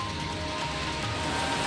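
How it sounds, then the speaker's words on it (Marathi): Heavy rain showers pouring down in Raigad, a dense, even hiss of rainfall holding steady with no voices. "रायगडच्या माणगाव, गोरेगाव, पेण, कर्जत, खालापूर या भागामध्ये पावसाच्या जोरदार सरी कोसळल्या"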